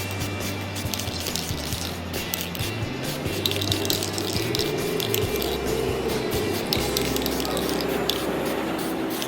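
Steady hiss of an aerosol spray can painting metal finger claws, continuous and close, with faint background hum and no talking.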